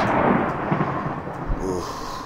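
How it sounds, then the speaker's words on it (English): Thunder from a storm in a survival video game rumbles loud and low across the whole moment, with rain-like hiss underneath and no talking. "Those thunderstorms are awful loud in this game."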